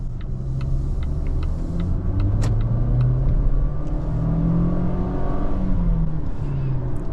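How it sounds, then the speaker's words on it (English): A 2020 Volvo XC40 T5 Momentum accelerates on the road, its engine drone rising through the gears with rumbling road noise inside the cabin, steady and close, with faint ticking clicks early on. "The car gets up to speed very well."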